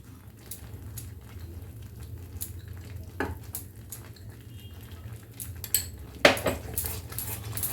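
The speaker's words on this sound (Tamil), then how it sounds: "இப்போ இதையும் நம்ம நல்லா கலந்து விட்டுறலாம்" Almond halwa with ghee is stirred in a pan, a spoon scraping and clinking against the metal in irregular strokes over a soft sizzle.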